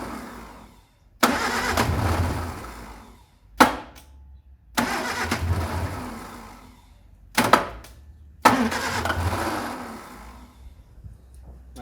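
A Ford MK1 Escort panel van, revived after 29 years, is cranked and fires repeatedly, each attempt a sharp start followed by a rough idle that dies away, several tries in a row, close and alone.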